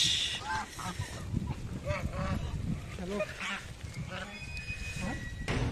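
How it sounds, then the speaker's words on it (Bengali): Ducks at Haleshwar temple in Tezpur quack and honk repeatedly in a noisy outdoor flock, their calls overlapping close by over a constant background murmur. "হাঁস"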